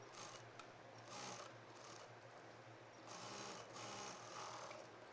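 A sewing machine stitching velvet fabric for a bridal princess-cut blouse, running in a continuous rapid mechanical whir with slight swells in speed, steady and fairly close, with no talking.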